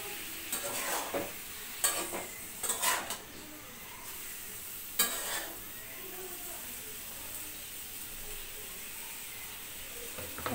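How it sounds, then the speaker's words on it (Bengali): Vegetables sautéed and stirred in a pan in a home kitchen, giving a soft continuous sizzle broken by a few louder scraping stirs near the start and around five seconds, then settling into a steady quiet fry. "এদিকে সবজিটা কষানো হচ্ছে।"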